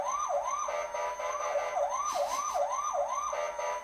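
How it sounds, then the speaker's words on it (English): A fire engine siren wails in repeated rising-and-falling sweeps, loud and close on a city street near a stoplight, steady for several seconds with a brief burst of extra noise midway. "Hear that? It's the fire department."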